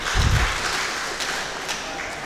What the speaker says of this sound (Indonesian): kita aplaus dulu Pak Fikram ini